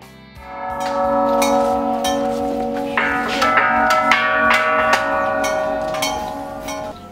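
Bright metallic temple chimes at Wat Kunaram, Koh Samui, Thailand, ring out repeatedly, their struck tones overlapping and sustaining with a shimmering decay, fairly close and clear over a quiet background.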